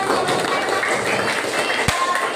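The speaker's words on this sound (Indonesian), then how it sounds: "tepuk tangan untuk kita semua" Fourth-grade children in a classroom clapping their hands together, a dense continuous patter of many small hands at close range with a single sharper knock near the end.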